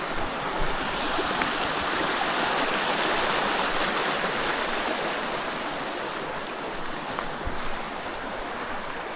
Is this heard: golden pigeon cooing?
no